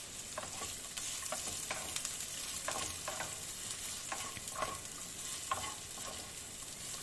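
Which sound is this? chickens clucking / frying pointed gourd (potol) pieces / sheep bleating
frying pointed gourd (potol) pieces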